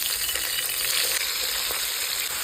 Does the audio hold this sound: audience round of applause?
no